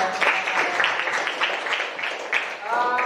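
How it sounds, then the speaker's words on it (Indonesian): A short burst of applause from a small group in a classroom discussion, steady clapping for a few seconds before fading out. "beri tepuk tangan dulu buat Rifani."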